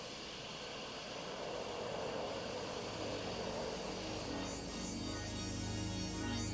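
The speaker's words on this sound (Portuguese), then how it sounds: "o P-3 Orion é quase idêntico em design ao Electra" A Lockheed Electra or P-3 Orion propeller aircraft drones steadily overhead, a broad continuous engine roar with a low hum that swells slightly toward the end.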